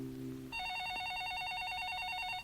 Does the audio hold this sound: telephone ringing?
yes